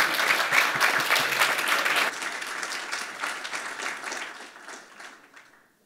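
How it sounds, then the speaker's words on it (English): Audience applause at a health innovation challenge event for diabetes care, a dense burst of clapping that stays steady for about two seconds then gradually thins and fades out to silence. "Let's give them a round of applause"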